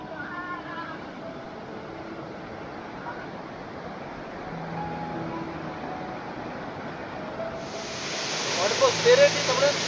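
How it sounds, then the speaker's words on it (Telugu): Mallipadu waterfall near Vishakhapatnam, one of the tallest falls, water dropping from a great height as a steady broad rush that swells louder and brighter toward the end. "వాటర్ అయితే చూడండి చాలా అంటే చాలా ఎత్తు నుంచి పడుతుంది"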